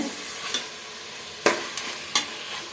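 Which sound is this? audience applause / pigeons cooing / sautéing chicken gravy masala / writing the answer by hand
sautéing chicken gravy masala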